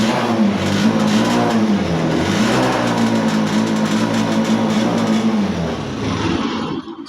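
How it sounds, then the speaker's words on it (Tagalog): A Honda TMX 125 Alpha motorcycle with a misfiring engine runs loud and close, its revving drone wavering unevenly in pitch before dipping and cutting out near the end. "So yun, paputol-putol yung andar mga padreng."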